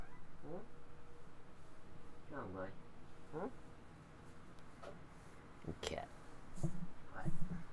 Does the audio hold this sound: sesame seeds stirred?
no